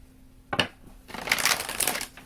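Tarot cards shuffled by hand: a short riffle, a pause, then a longer, denser flurry of crisp card flicks, close up with no voices.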